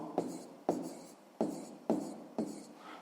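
Pen writing by hand on paper while working through a sixth-grade math exercise, five sharp scratchy strokes at a steady rhythm, each one starting abruptly and trailing off, close and alone.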